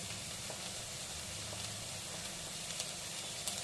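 Chilies, tomato and carrot frying in a pan for upma give a steady, moderate sizzle with faint crackles, constant and unbroken, with no voices.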